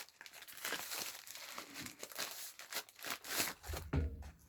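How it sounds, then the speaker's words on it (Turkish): A shipping parcel is opened by hand, with its plastic packaging crinkling and tearing in quiet, close, irregular bursts and no talking. "Şöyle birinci kargomu açıyorum."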